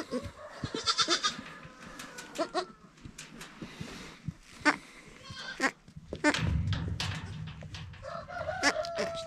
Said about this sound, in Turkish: burada bir tane çiftlik oğlak var. Ankara keçisi.